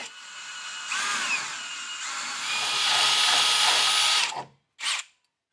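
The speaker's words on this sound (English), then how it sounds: "We're gonna go ahead and drill our pilot holes" A power drill bores pilot holes in metal for pins, whining loudly in a sustained high-pitched run that rises in intensity before cutting off, followed by one short final burst.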